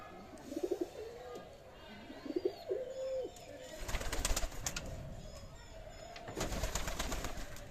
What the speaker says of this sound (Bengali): এই দেখেন কবুতরগুলো